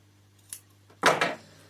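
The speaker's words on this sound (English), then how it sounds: "Just cut out a shape." Scissors cut out a small felt shape for a wool-felted door draught stopper, giving a faint snip followed by a louder, brief crunchy cut close to the microphone in a quiet room.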